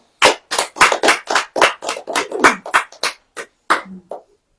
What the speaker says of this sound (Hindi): आप ताली बजाएं।